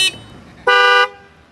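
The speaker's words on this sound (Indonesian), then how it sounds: "Lalu tes klaksonnya, no." A single loud dual-tone horn blast from a 2018 Honda PCX scooter, bright and tonal, lasting about a third of a second after a brief earlier click.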